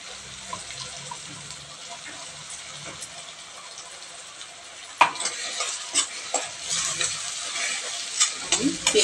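Ground masala paste fries in oil for misal, with a quiet sizzle at first that turns into a louder crackling, spattering fry with stirring scrapes in the second half.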